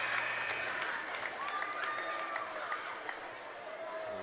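A basketball crowd in a high school gym during a boys' game roars and chants steadily to distract a player at the free-throw line, a dense continuous din with scattered claps and whistles.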